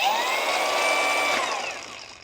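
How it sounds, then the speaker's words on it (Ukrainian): A ProCraft Industrial AG 125C cordless angle grinder runs on its second speed setting, giving a steady, loud high-pitched whine that holds level, then fades slightly as it begins to spin down near the end. "болгарку Industrial. Другий режим вмикаю."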